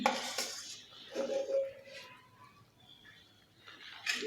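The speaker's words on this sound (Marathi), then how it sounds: "याच्यामधल्या गुटळ्या मोडत यामध्ये मिक्स करून घ्यायचं आहे" A utensil clinks and scrapes against a pan as roasted ragi flour is stirred into upma, producing a few irregular metallic taps and rubs, close and fairly quiet.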